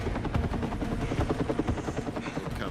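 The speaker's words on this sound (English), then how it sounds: "It comes into a helicopter carrying a Jeep that Mark Wahlberg arrives back in" A helicopter carrying a Jeep beats its rotor in a loud, steady rhythmic thump with a rough engine roar, close overhead and continuous throughout.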